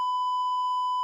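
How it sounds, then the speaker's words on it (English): A censor bleep from a Rodecaster Pro 2 sound pad, a single steady pure electronic tone held for about a second, loud and clean with nothing else around it. "So you can use your sensor beep."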